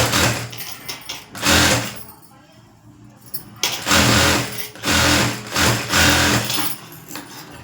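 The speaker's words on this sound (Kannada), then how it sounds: "ಇವಾಗ ಇಲ್ಲಿ ಒಂದು ಸ್ಟಿಚಿಂಗ್ ಹಾಕ್ಕೊಳ್ಳಿ." Bursts of a sewing machine stitching a blouse come in several short runs separated by pauses, loud and close, with someone talking between and over the stitching.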